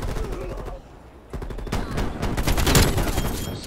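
Video game gunfire from an MP5 submachine gun and a sniper rifle, rapid automatic bursts and sharp shots, loud and close, with a short lull before a denser stretch of firing.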